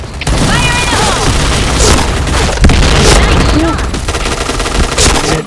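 Heavy gunfire and booming blasts in a video game shooter, a grenade explosion among loud overlapping shots, with voice chatter throughout.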